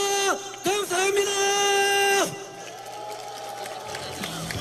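At a Democratic Party leadership rally in Gwangju, the crowd responds after a candidate's speech for the supreme council. Loud whoops and shouts come first, then settle into sustained applause and crowd murmur.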